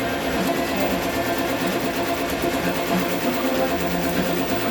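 A DTF printer running a nozzle check, with a steady, loud mechanical whir and rapid rattling of the print head and carriage that continues without a break, no talking.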